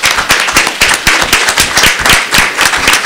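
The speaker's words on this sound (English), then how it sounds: "please help me give a round of applause to our guests" Guests at a panel on mass atrocities and sexual violence against women in Guatemala receive applause, heard as close, loud, distinct individual hand claps in a quick irregular rhythm from a small audience.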